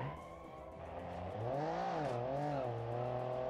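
Rear-engine rally car in the BeamNG racing game spinning its wheels on a low-grip surface, a wavering tire squeal rising and bending over a steady engine drone, fairly faint.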